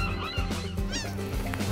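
Geese and other waterfowl honk and call repeatedly at Boundary Bay Regional Park in South Delta, several overlapping nasal cries close by over a busy flock backdrop.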